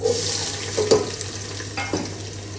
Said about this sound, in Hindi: भिंडी को भी फ्राई कर लेंगे और प्याज भी यहाँ पे फ्राई हो जाएंगे